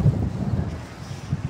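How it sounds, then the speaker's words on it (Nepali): Strong gusting wind in Qatar buffets the microphone as a steady low roar that rises and falls in loudness, close and continuous, with no voices. "तर हावाहुरी चाहिँ बवाल"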